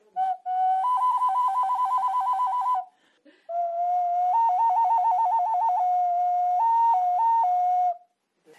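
Traditional clay folk whistles shrill in two long trilling bursts, steady piercing tones warbling between two pitches, loud and close with a short pause between them.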